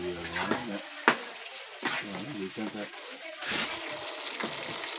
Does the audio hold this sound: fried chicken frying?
yes